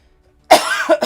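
A single close, loud cough bursts out after a moment of silence, followed by two shorter hacking coughs.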